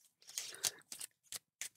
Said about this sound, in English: I'm getting used to shuffling these decks.